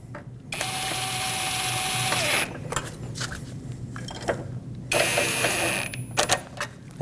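Nuts on the J-hooks of a battery hold-down in a 2005-2021 Nissan Frontier are snugged with a ratchet, giving quick clicking and ratcheting bursts with pauses between, close up and without speech.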